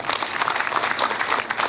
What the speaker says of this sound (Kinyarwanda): Bantiza amashyi tubashimire.